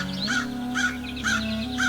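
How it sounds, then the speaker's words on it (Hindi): Crow caws repeat in a steady rhythm, four harsh calls spaced evenly over a sustained low tone, clear and close with no talking. "उसमें से एक छोटा सा कौवे का बच्चा बाहर निकला।"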